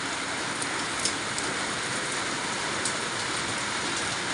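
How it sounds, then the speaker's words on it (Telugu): Heavy rain pouring down in a steady, dense hiss that stays even and loud from start to finish, with only a few faint drips standing out and no voices. "కానీ వానైతే ఫుల్గా పడుతూనే ఉందండి"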